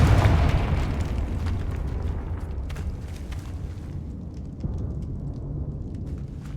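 In Hogwarts Legacy, a Confringo fire spell explodes with a loud, rumbling burst up close, then decays into crackling debris and scattered pops over several seconds.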